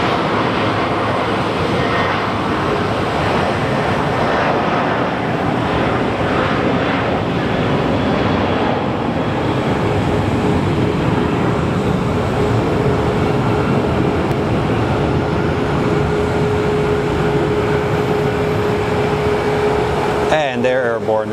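An airliner roars down the runway and lifts off at Sky Harbor Airport, a loud, steady broadband engine rumble with a faint tonal whine, filling the whole stretch without a break.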